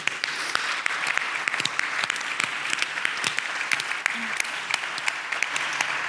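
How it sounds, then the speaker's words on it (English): Applause from an audience honouring a group of actresses at a film screening, steady dense clapping filling the room throughout, with a faint voice showing through briefly. "Can we please have a round of applause for these incredible actresses?"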